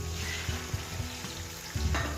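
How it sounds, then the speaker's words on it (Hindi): Potatoes and peas frying with rice in a pot, a steady close sizzle with a few soft stirring knocks and a louder scrape near the end. "5 मिनट हम फ्राई करेंगे।"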